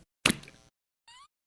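A voice imitates a knife stab: a sharp wet plop, then after a short pause a brief squelchy slurp as if the blade is pulled out.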